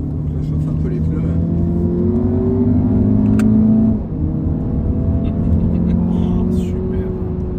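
An Audi TT accelerates hard with a loud, steady engine drone that climbs in pitch, drops briefly at a gear change, then rises again while tyres are warmed on a track, with people talking inside.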